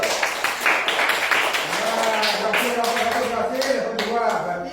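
A classroom full of students breaks into a round of clapping, dense and steady for several seconds at close range, with voices talking over it.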